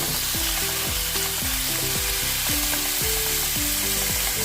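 Chicken sizzles and fries steadily in a pan for a home-style boiled chicken dish, with repeated scraping and stirring strokes as the pieces are turned, close and loud with no talking.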